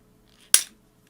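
A plastic transforming robot toy part snaps into place with a single sharp, close click in an otherwise quiet moment.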